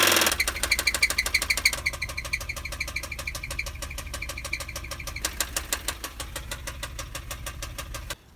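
A Mitsubishi L200 pickup engine with a broken crankshaft idles close by, its loud rapid knocking hammering in an even rhythm throughout, with no talk.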